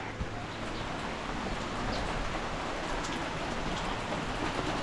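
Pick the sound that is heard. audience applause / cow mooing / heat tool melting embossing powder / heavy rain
heavy rain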